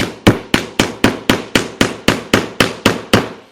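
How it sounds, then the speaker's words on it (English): A hammer taps a nail into the back of a wooden art frame to start a pilot hole before fitting hanging hardware: twelve sharp, evenly spaced strikes, close and loud, each with a short ringing decay, no talking. "I'm going to take my nail and my hammer, and I'm just going to create a little bit of pilot hole."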